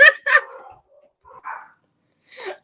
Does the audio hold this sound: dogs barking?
yes